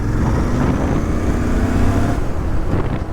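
A Royal Enfield Bear 650 motorcycle accelerating hard, its engine roaring loudly and continuously close by with a steady low rumble and no voices over it.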